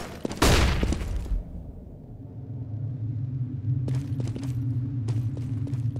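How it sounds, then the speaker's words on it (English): Flashbang grenade going off in a CS GO match on Nuke, heard as one sharp, loud burst near the start followed by a low lingering rumble, with faint clicks and footsteps later. "Deploying flashbang."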